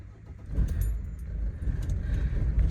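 A Mercedes W124 engine turning over and catching, with a low rumble building into a steady idle and a faint jingle of keys near the start.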